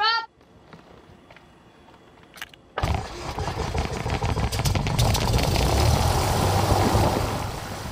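A small propeller aircraft's engine catches and starts at Luis Munoz Marin International Airport in Puerto Rico: a brief voice and quiet cabin give way to a sudden loud, steady engine roar that builds and holds close by.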